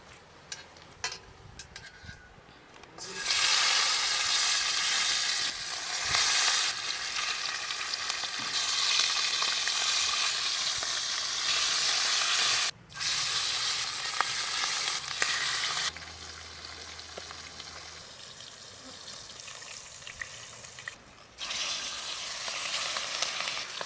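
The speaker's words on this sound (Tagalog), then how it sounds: "Unahin ko munang i-fry tong mga saging na saba." Saba bananas frying in oil, a loud, steady bubbling sizzle that starts after a quieter opening, broken by a brief drop and occasional shifts as the pieces are stirred.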